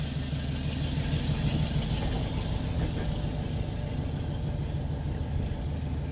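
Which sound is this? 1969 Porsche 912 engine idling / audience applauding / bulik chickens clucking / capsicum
1969 Porsche 912 engine idling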